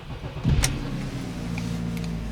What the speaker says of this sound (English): Okay, so let's start the car and see how many of these actually go out.